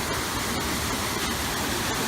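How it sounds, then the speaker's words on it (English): Water pouring off rock into the Basin at Franconia Notch State Park, a steady, dense roar of falling water, close and constant throughout with no pauses or voices. "You see where the water comes down off the rock and drills a hole in there"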